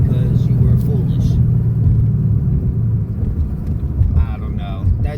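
A car with an MT82 manual transmission drives along a road, giving a steady low rumble of engine and tyre noise from inside the cabin, with a few faint clicks and knocks over it.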